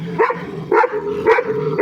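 A dog barks three times in a steady rhythm, sharp and fairly close, with a faint background hum between barks.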